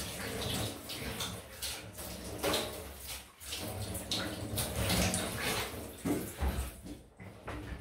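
Tap water running steadily while lather from a shaving soap is rinsed off, a continuous splashing wash with small clunks and shifts in flow, fairly close and without speech.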